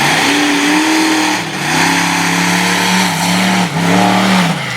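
A monster truck engine at a Sarver, Pennsylvania competition revs hard and loud, the pitch rising and falling in repeated surges with brief dips between throttle bursts.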